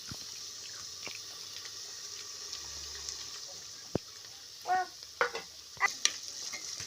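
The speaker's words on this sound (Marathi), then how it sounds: "आत्ता कढीपत्ता टाकलेला आहे आणि फोडणी द्यायचं एकदम भाताला काम चालू आहे" Cumin seeds and curry leaves sizzle softly in hot oil in a pan on a gas stove, tempering rice: a steady hiss runs throughout, with a few sharp stirring clinks and scrapes near the end.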